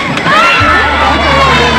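A rodeo crowd cheers and shouts loudly in a dense, sustained roar of voices and whoops, with an announcer's voice mixed in.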